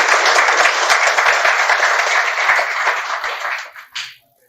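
Loud, dense applause from an audience at a data science and machine learning careers session, sustained clapping that fades out, with a last few claps near the end.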